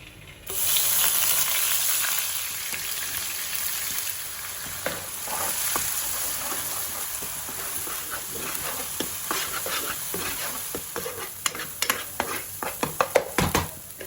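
Onion paste frying in oil for a traditional fish curry, a strong sustained sizzle that swells after a quiet start, then sharp clicks and scrapes of stirring pile up toward the end.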